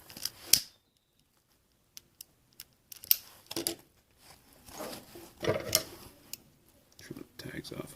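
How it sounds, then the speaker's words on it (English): Scissors trim the tags off a PALS/MOLLE webbing accessory pouch, giving a few sharp, brief snips and small rustles spread across a quiet stretch, close by. "Trim the tags off as well."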